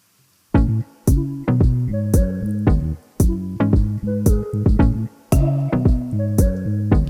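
An Afrobeat-style song plays back with punchy rhythmic chords and bass in repeating bars, loud and clean with short gaps between phrases, no talking.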